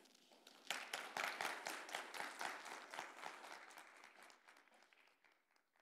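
An audience at an MLK celebration claps to welcome a student speaker to the podium, applause starting abruptly, swelling briefly, then gradually thinning and fading out.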